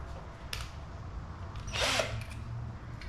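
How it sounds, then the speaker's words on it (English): A power drill whirs briefly in one short, high burst while drilling a part for a 1987 Dodge D100 rear suspension, with a faint click just before it, against a quiet background. "So I need to take and drill this"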